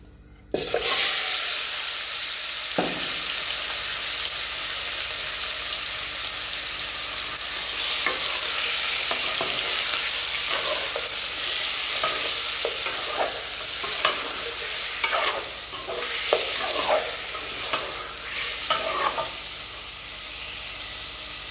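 Marinated mutton frying in a hot pan for Mughlai mutton curry, a steady loud sizzle throughout with repeated scraping stirs of a ladle in the second half, close up and without talk.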